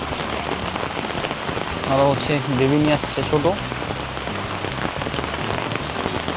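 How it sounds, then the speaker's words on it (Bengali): Heavy rain falls steadily on the path up Chandranath hill in Sitakunda, a dense hiss throughout, while people talk briefly over it in the middle. "বৃষ্টি কিন্তু আরো জোরে আসতেছে আর অনেক।"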